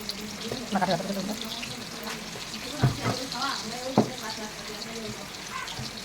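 Batter placed into a hot pan brushed with white oil, giving a steady, moderate sizzle with a few sharper spatters and clinks as pieces go in, while someone talks over it.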